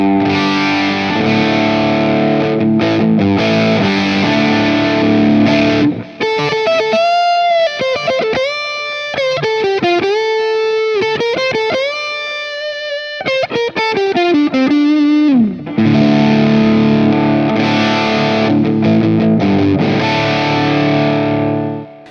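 An electric guitar played through a cranked tube amp into a Two Notes Torpedo Captor X roars with heavy distortion: sustained chords, then a run of rapid single-note lines, then loud chords again, with no talk.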